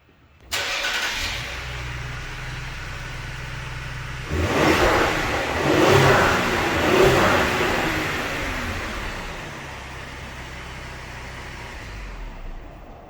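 A 2020 Ford Explorer ST engine with a Borla ATAK exhaust starts and idles, then revs up a few times with a deep exhaust roar before settling back to a steady rumble.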